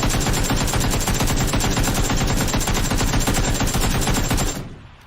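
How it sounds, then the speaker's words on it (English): Rapid automatic gunfire in the PUBG video game, aimed at a wall, hammers away without a break for about four and a half seconds and then cuts off with a short echoing tail. "It's just as simple as aiming at a wall and shooting"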